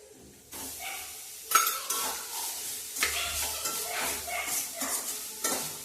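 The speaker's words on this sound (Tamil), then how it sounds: "இப்போ தேங்காயை நம்ம வறுத்து எடுத்துக்கலாம்." Grated coconut dry-roasting in a pan for coconut burfi, stirred with a spoon that gives close, irregular scraping strokes over a soft sizzle, with no talking.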